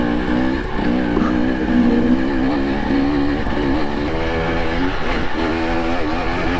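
A car with a TPI fuel-injected engine accelerates, its engine note droning close and steady while the pitch climbs and dips through gear changes. No talking is heard.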